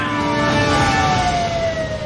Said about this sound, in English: A police car on neighborhood patrol extinguishes the fiery argument outside the restaurant.